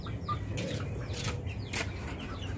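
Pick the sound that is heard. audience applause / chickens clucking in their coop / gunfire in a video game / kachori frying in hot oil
chickens clucking in their coop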